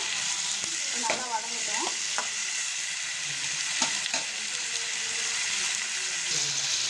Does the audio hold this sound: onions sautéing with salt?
yes